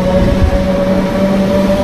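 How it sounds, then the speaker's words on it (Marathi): A train pulls out of Saphale station heading toward Dahanu, a close, loud, steady rumble of rolling wagons with a sustained tonal hum. "बघू शकता ही ट्रेन आता चालली आहे पुढे डहाणूकडे बोईसरकडे"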